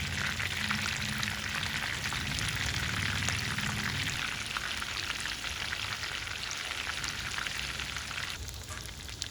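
Thread chicken, strips wrapped in fine crispy strands, fries in hot oil in a pan, giving a dense, steady sizzle with a continuous hiss and crackle up close and no voices.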